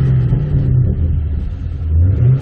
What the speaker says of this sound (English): I'll rev it.